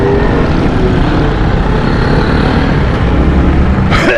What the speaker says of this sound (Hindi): वो जो ट्रैफिक आ रही है ना यहाँ से यू टर्न लेके,